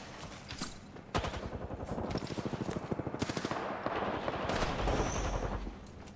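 Rapid gunfire in Apex Legends, dense bursts of automatic shots rattling steadily for several seconds with scattered single cracks, loud and close, with no talking over it.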